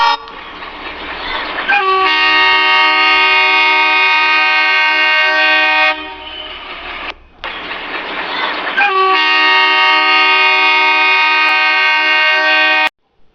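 A passenger train on an overnight railway journey toward Shivamogga sounds two long, loud, close horn blasts over a steady rumble of rolling wagons and faint clickety-clack, with a short pause between the blasts.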